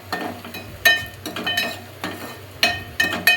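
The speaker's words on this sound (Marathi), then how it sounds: "कांदा मस्त भाजून द्या लाल होस्तवर." Onions frying in a pan in a home kitchen, soft sizzling broken by repeated scraping and clinking stirs of a utensil against the pan, close up and without talk.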